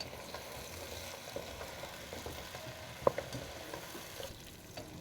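Pieces of mutton meat fry with onions in a pan, a soft, steady sizzle with one sharp clink partway through and a few faint scrapes, heard alone without talk.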